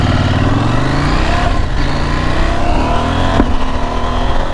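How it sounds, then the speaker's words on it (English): A KTM 790 Adventure motorcycle engine revs loudly up close, its note climbing and dropping with gear changes, punctuated by a sharp pop of backfire about a third of the way through. "Whoa, backfire."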